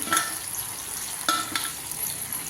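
Sliced raw mango sizzles in a hot pan, with a couple of brief stirring scrapes over the steady frying hiss; no talking.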